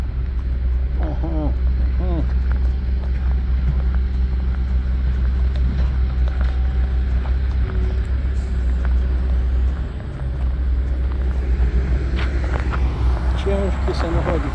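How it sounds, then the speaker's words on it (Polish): Heavy truck rolling past a roundabout construction site during road expansion, a steady low diesel rumble close by with a hiss like an air brake, continuous throughout while someone talks over it. "Ciężki samochodzik tu jedzie"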